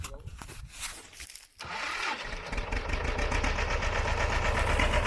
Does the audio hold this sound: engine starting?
yes